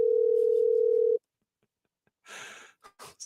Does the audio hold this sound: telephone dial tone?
yes